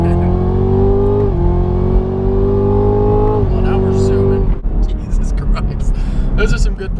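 A 2017 Chevrolet Camaro ZL1 with a 10-speed transmission accelerates hard, its engine rising in pitch through two gear pulls, loud and close from inside the cabin, with occupants talking excitedly over it.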